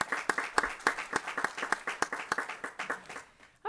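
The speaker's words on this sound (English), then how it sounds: "And one more round of applause for Mr." An audience at a school board meeting gives a short round of applause, with steady, fairly faint clapping from a modest crowd in an indoor hall.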